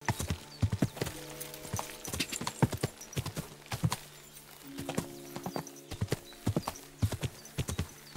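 Horse hooves clip-clopping steadily in the medieval game Kingdom Come: Deliverance 2, a close, rhythmic stream of hoof strikes with an occasional whinny and brief voices over it.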